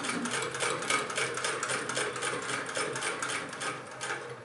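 A 1926 Singer 99 hand-crank sewing machine stitching with standard thread, giving a steady, fast mechanical whir and clatter that runs evenly and close throughout with no talk.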